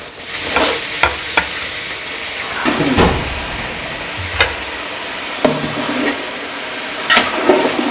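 Chicken pieces fry in hot oil with browned onion and crushed garlic and ginger, a loud steady sizzle broken by sharp scraping clacks of a spoon stirring the pan every second or two.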